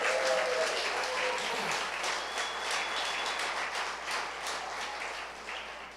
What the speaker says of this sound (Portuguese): Você podia dar um aplauso a Jesus bem forte.